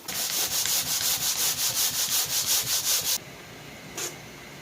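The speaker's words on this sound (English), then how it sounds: "let that dry, and we'll come back to it and scuff it up" Drywall joint compound over a hole repair is scuffed with a hand sanding block in fast, even back-and-forth strokes, a loud rhythmic rasping that stops abruptly, followed by one last brief rub.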